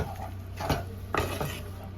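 Spice paste for a red duck-egg and potato curry being mixed in a pan with a splash of water: a few scraping, clattering strokes of a spoon against the metal over a low hum, with no talk.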